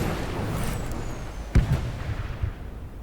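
Kinetic weapons firing in the space combat video game Sunrider Liberation Day, with one sharp blast standing out over a low rumble and fainter follow-up impacts.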